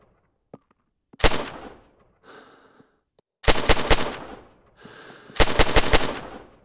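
Semi-automatic rifle fire from the NLF weapons in the video game Rising Storm Vietnam: one lone shot, then two loud bursts of rapid single shots with echoing tails, with quieter reloading and handling sounds between them.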